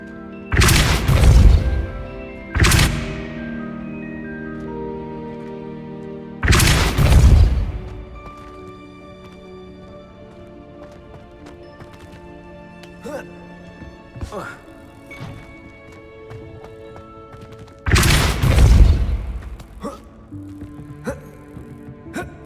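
Heavy spell blasts from Hogwarts Legacy boom out in four separate bursts, each a deep thudding impact with a crashing tail, spaced irregularly over a quieter bed of game music and ambient effects.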